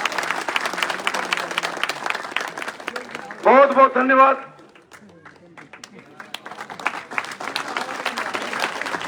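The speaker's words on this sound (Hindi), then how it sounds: "जोरदार तालियों से अभिनंदन और स्वागत" Crowd applause welcomes a politician at a village rally, dense clapping swelling and fading around a brief stretch where someone speaks over a loudspeaker.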